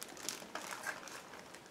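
A plastic bag holding plastic model kit sprues for a 1/72 Fairey Barracuda Mk.II is opened, giving soft, close crinkling and crackling rustles in short bursts, quiet and without talk.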